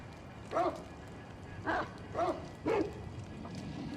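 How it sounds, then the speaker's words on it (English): Dogs bark in the Sekiro video game, four separate barks spaced about a second apart, each short and fairly close, over quiet game ambience with no speech. "And the dogs are mad at me."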